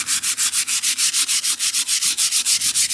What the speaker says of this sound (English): I'm sanding lightly because I don't want to sand through the whole thing